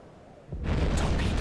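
A torpedo strikes a ship in the submarine game Silent Hunter 5, set in the Battle of the Atlantic: quiet ambience breaks into a single loud, deep explosion that swells and rumbles on with a broad roar.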